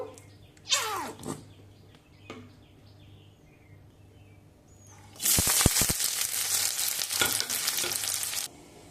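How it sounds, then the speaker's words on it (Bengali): Sliced onions for birista, fried for a cauliflower biryani, start with a few quiet scrapes, then break into a loud, bright sizzle as they hit the hot oil. The sizzle lasts about three seconds before it cuts off. "এবার প্রথমে বেরেস্তাটা ভেজে নেব।"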